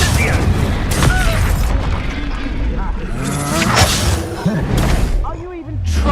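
Incendio fire spell cast in Hogwarts Legacy, a loud whooshing burst of flame amid booming impacts and swishing spell effects during a chaotic duel, with voices shouting over the combat.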